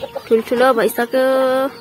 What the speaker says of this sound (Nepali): यो चाहिँ लोकल कुखुराहरू हो सबै